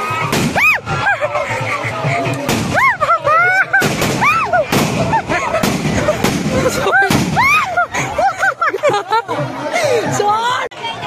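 Firecrackers and bombs bursting at a village Kali Puja celebration, sharp loud bangs scattered throughout amid whistling rockets and a busy crowd chattering and shouting nearby.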